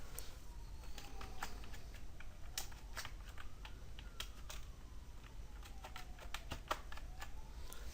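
Steady light typing on a computer keyboard, quick irregular clicks running continuously over a low hum, fairly faint and close, with no voices.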